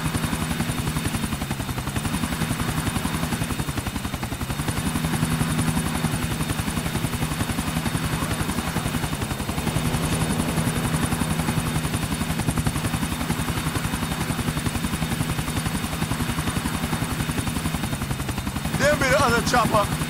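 A helicopter in Grand Theft Auto IV drones with a steady, throbbing rotor chop throughout, loud and close, while characters talk over it and a brief burst of other game noise comes near the end.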